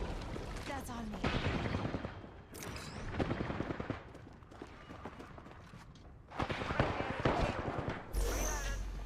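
Gunfire in the video game Apex Legends, with repeated rapid shots and bursts crackling over constant game noise while a player talks throughout.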